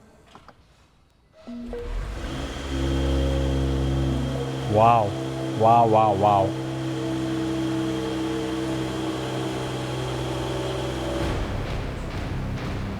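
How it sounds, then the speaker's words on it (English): A Mercedes GLE53 AMG, freshly given a full engine rebuild, fires up and settles into a steady, even idle hum that continues to the end, while a voice exclaims over it a few times. "You don't even hear the starter motor. It just fires up like clockwork."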